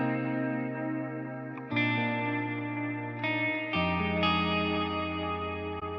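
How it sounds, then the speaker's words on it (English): Sustained electric guitar chords ring out through delay, chorus and a long plate reverb, several chord changes each smearing into a shimmering, distorted wash with trailing echoes, loud and alone. "add your favorite delay and then try some chorusing after that"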